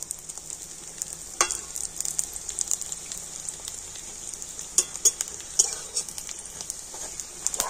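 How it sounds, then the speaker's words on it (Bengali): Fish roe sizzles in mustard oil in a pan with a soft, continuous frying hiss, punctuated now and then by light spatula taps and scrapes. "এতে করে এই ডিমের পিছন সাইডটাও কিন্তু খুব সুন্দর করে ভাজা হয়ে যাবে।"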